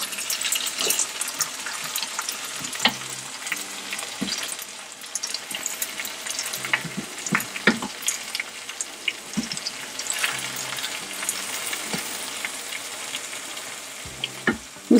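Cameroon spinach vegetables sizzle and crackle steadily in a hot pan, a loud, continuous frying hiss with scattered pops and a few stirring scrapes, no voices.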